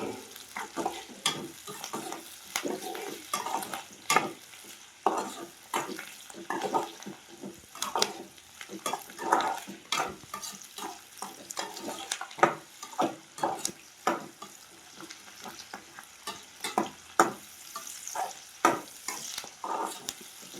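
Curry leaves sizzle and crackle in hot oil in a pan alongside garlic, a steady frying hiss broken by frequent sharp spits and stirring clatter, close and moderately loud with no voices.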